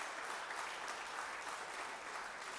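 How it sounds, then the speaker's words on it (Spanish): Congregation applause during a church retreat sermon in New York City, a steady, even wash of many hands clapping, heard at a distance and fairly faint, with no break for its whole length. "1, 2, 3 aplausos."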